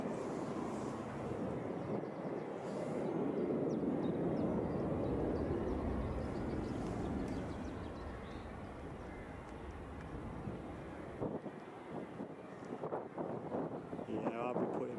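Airplane at Edinburgh Airport, a broad distant roar of engine noise and wind that swells and then eases, with some gusty microphone buffeting and speech near the end.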